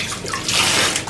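Tap water runs steadily onto a dog's ball being rinsed under a running faucet in a bathroom, a close, continuous splashing hiss with no talk.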